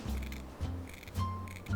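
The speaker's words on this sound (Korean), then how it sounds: "가위로 이렇게 해서 지느러미를 이렇게 떼주시고요." Kitchen scissors snip off a flounder's fins in three or four crunchy cuts at an even pace, close and quiet.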